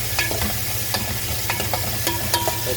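Tomato goes into a pan of frying ginger and garlic, giving a steady close sizzle with repeated stirring scrapes and light clicks throughout.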